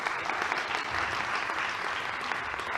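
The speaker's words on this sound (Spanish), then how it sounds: "un fuerte aplauso para Pedro J. Bonilla" A flamenco event audience gives warm, sustained applause, a dense even patter of many hands clapping throughout at a steady level.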